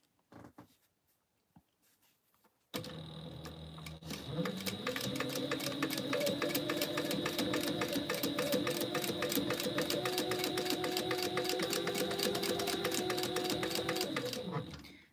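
A sewing machine runs steadily, stitching a 3/8 inch seam on an Andie Sling bag after a short quiet start with faint handling noise. The motor whirs loud and close, keeping an even, rapid stitch rhythm for about twelve seconds before stopping.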